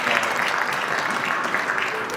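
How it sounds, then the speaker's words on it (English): A crowd at an Onam community celebration claps steadily in a continuous round of applause, moderately loud and even throughout, with no speech standing out. "Let's give a big round of applause."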